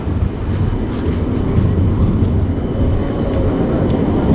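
A tram in Oslo rumbles past at close range on a winter night, a steady loud rolling drone with faint higher squeals, with no talk over it.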